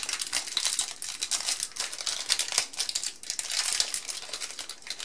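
Fuji Acros 100 film is unwrapped with continuous close crinkling and crackling of packaging, soft and irregular, with no talking.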